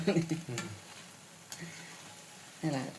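Moong dal fritters sizzle in hot oil while being stirred, with light scraping clicks from the spoon coming in short bursts, close by and partly under a person talking.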